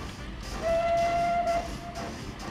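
A train in the game Transport Fever, a newly added modded locomotive, sounds a single steady whistle of about one second over a low rumbling background, fairly close and clear.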